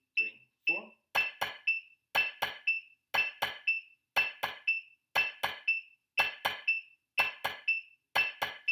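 Drumsticks strike a drum practice pad in a steady exercise pattern, sharp dry clicks in evenly spaced bursts of several strokes each, close and clear with no talking over them.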